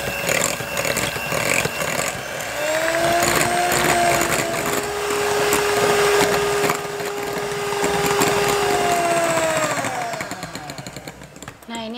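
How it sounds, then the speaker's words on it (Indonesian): Mito MX 200 electric hand mixer beating cake batter in a bowl, a steady loud whirring motor hum with a rising and falling pitch and rattling beaters, running continuously and then stopping. "Di sini aku akan mixer pakai hand mixer MX 200 dari Mito."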